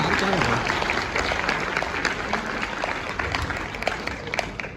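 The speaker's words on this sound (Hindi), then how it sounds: "एक बार सब लोग ज्यादा जोरदार तालियां बजा के बताएं" Loud applause from the audience at a poetry recital, dense and steady clapping that fills the whole stretch at close range and thins slightly toward the end.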